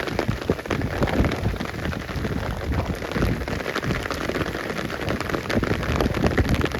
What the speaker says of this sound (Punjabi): ਬਾਰਿਸ਼ ਪੂਰੀ ਟਿਕ ਟਿਕ ਕੇ ਲੱਗੀ ਪੈਣ